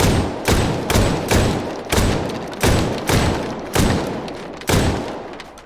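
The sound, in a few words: shotgun firing in the video game H3VR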